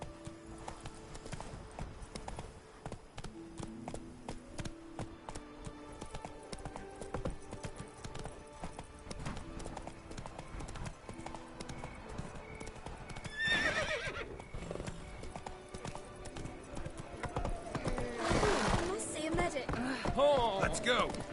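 Hooves of the horse Roach clip-clopping in The Witcher 3, a rhythmic, steady gallop with occasional whinnies and bursts of louder movement, playing beneath a man's spoken lines and game dialogue.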